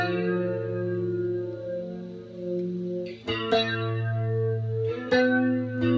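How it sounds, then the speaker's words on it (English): An electric guitar rings out through a Roland Jazz Chorus amp with a Space Echo and a 1980s BF2 flanger, sustained chords swirling with chorus and echo, then sharp new strums, played alone. "So I've got my Space Echo and a BF2 flanger from the 80s as well."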